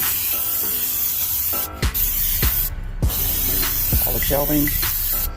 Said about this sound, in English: Basically gonna spray the inside down with Pam.